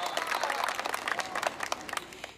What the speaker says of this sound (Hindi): एक बार आगे से पीछे तक जोरदार तालियां बजाइए